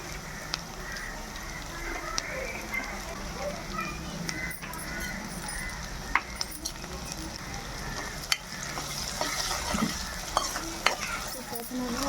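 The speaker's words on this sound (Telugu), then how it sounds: "మనకి ఉల్లిపాయలు అయితే చక్కగా దోరగా అయితే వేగిపోనియండి." Onions, green chillies and ginger-garlic paste frying in a pan, a steady sizzle with occasional spoon scrapes and clinks, while a person talks over it throughout.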